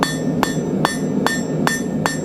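A metal marshmallow stick being pointed with a hammer on the edge of an anvil, five evenly spaced ringing metallic strikes close up, each with a bright short ring over a low steady background hum.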